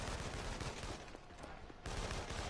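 Gunfire in the video game inFamous Second Son: dense, rapid bursts of shots forming a continuous fusillade throughout. There is a brief dip in intensity midway before the shooting resumes at full strength, with no speech.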